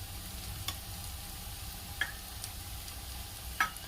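Rice with two bay leaves being stirred in a pot, heard as a few faint, sparse spoon taps and scrapes against a quiet background with no talk.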